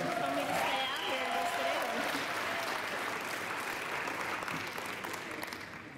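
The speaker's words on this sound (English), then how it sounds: "One more round of applause for the entertainment." A large crowd at a Christmas party claps steadily, the applause loud and sustained with a few voices at the start before slowly tapering off.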